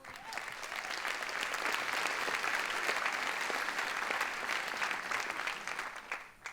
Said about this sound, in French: Et je pense qu'on peut remercier au passage et applaudir aussi Christophe Brachet